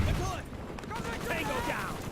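A shotgun in a Vietnam War video game fires one heavy, booming blast at the start. The blast is followed by more game combat noise, and someone talks over it.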